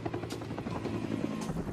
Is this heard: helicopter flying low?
yes